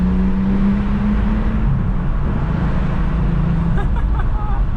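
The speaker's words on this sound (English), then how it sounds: "Our maiden voyage in the VR6 wagon" A VR6-powered Jetta wagon drones under load while driving, engine note climbing toward about 4,000 RPM, loud and continuous with road noise, briefly shifting pitch partway through.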